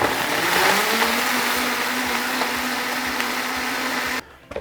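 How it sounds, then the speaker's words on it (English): Blender running at high speed on toasted coconut horchata, a loud steady whirring motor drone that holds evenly, then cuts off abruptly near the end, leaving a few faint clunks. "we're gonna let this blend for about a minute at high speed"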